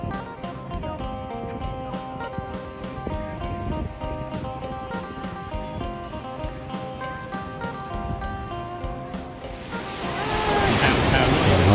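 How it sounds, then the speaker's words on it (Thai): Ocean waves wash in continuously with a broad rushing roar, swelling louder near the end, alongside a steady rhythmic tapping in the foreground, at Port Stanley beach on Lake Erie, Ontario. "เสียงคลื่นมันดังทั่วจ้าทุกจ้าเนาะ"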